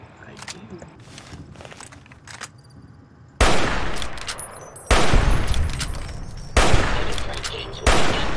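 Hunting rifle gunfire in Fallout: New Vegas, four loud, evenly spaced cracks with lingering echoing tails, preceded by quieter game sounds and rustling movement.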